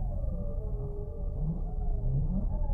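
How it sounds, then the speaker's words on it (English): A dragon from a video game soundtrack lets out a continuous synthesized cry: low rumbling growl under wavering, sweeping tones, steady and fairly loud for about three seconds. "That's the sound of the dragon."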